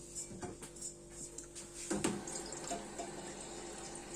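Water poured into a cooking pot for calf's feet, a faint trickling and splashing with a few sharp clinks and drips, quiet and close, with no speech.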